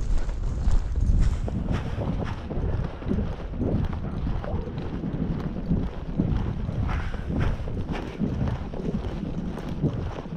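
A horse galloping along a forest trail, rapid, steady hoofbeats thudding on soft ground close to the microphone, with wind buffeting throughout and no talking.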